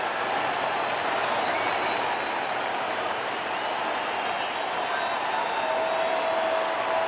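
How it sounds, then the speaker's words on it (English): A St. Louis baseball stadium crowd roaring after a big hit, a dense, continuous wall of cheering and clapping that holds at full strength from start to finish with no voices breaking through. "Listen to the crowd in St. Louis."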